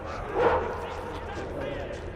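Dogs bark at a dog fight in the video game Metro Exodus, one brief bark standing out amid faint, muffled yelps in the background.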